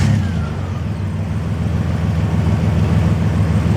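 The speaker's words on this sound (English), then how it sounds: "What we're going to do is we're just going to jump it and start it." A 1997 Ford Ranger engine with an exhaust leak, jump-started at the solenoid, runs loud and close with a steady, throbbing low idle that holds evenly throughout.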